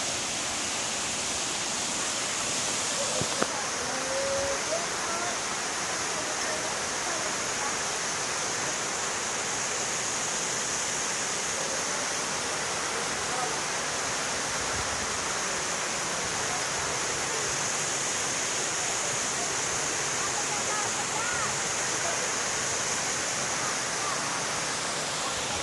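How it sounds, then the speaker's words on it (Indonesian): Muhalek waterfall near Atambua pours with a steady, dense roar of falling water that holds an even level throughout, close and loud, with a faint knock near the start. "Air terjun Muhalek,"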